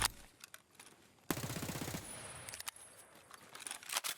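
Submachine gun with a small 13-round magazine firing in a video game: a fast, dense burst of shots lasting under a second, loud and close, with scattered game sounds before and after.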